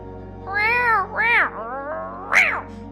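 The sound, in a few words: cat meowing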